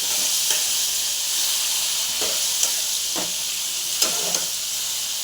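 Poppy seed paste added to frying onions in a pan: a loud, constant hiss of sizzling oil fills the clip, with a few faint scraping taps of a spatula over it, close up and without talk.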